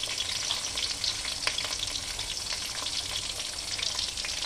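Sliced garlic and green chillies crisping in hot oil, a dense close crackling sizzle with a few sharp pops, steady throughout and free of talk.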